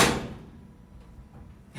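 The door of an old Otis gated service elevator in a Chicago building moves with a soft, brief rumbling thud at the start, then a quiet pause and another faint knock at the end.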